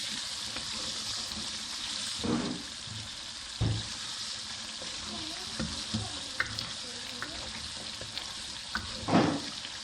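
Kadai gosht with tomatoes simmering and frying in a wok, a steady low sizzle under occasional stirring scrapes and knocks, close by, with no voices.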